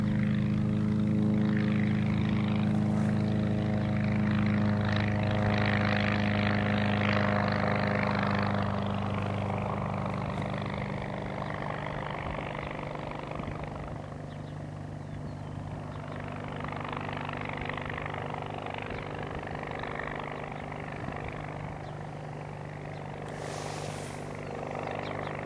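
A FAR 103 ultralight aircraft engine running under power: a loud, steady droning hum with a buzzing propeller, continuous throughout and easing slightly partway through, with no talking heard over it.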